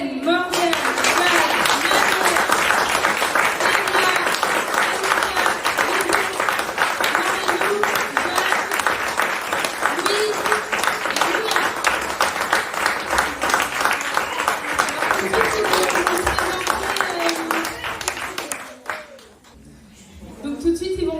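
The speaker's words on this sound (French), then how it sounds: "je vais vous demander s'il vous plaît d'applaudir tous les enfants" An audience applauds a group of children at a school event, sustained clapping that carries on for about twenty seconds with some rhythmic patches and a few voices, then fades out near the end.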